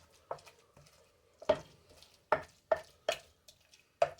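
A spoon works through a tuna patty mixture in a bowl, giving soft, wet, squelching stirs and light taps in an irregular series of about eight strokes, quiet and close.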